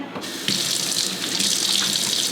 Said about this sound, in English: So let me wash my hands here.